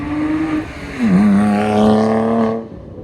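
A Ford Mustang S197 at a campus car meet rumbles past close by, its engine note rising and falling in one loud, steady pass of about three seconds before cutting off.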